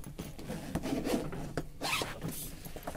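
Zipper on the front pocket of a tactical urban carry bag being pulled open in a few quick, close rasping strokes, heard alone without talk.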